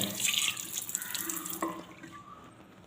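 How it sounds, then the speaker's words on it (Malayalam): Water pours and splashes into a wash basin sink while it is being cleaned, a close, steady running-water rush with a few drips and clinks, fading slightly toward the end. "കുറച്ച് വെള്ളം ഇതുപോലെ ഒന്ന് ഒഴിച്ചു കൊടുത്താൽ മതി"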